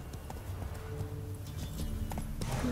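Hoofbeats of Geralt's horse Roach in The Witcher 3 video game, a steady clip-clop trot close by over low ambient game sound.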